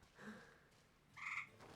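Pet tree frogs croak indoors, two short bursts of calls, the second louder, heard faintly at a distance in a quiet room.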